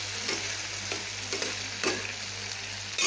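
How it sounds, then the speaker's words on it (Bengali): Turmeric stirred into hot oil in a pan, a close, continuous sizzle punctuated by a few soft scraping strokes of a spoon against the pan. "হলুদটা আগে দিয়ে একটু নেড়ে নিই"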